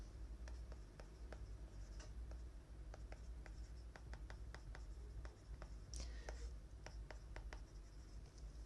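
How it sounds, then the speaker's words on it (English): Pen or marker writing on a board or paper, a run of quick faint ticks and short scratchy strokes over a steady low background hum, no voice. "So I'm going to write that over here."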